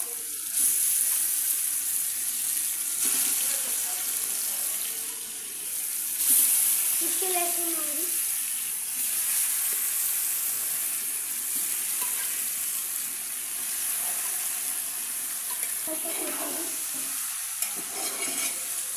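Fish frying in a pan with onions and turmeric for a Telangana-style fish curry gives a steady, moderate sizzle that runs throughout, with occasional stirring scrapes and light clinks over the hiss.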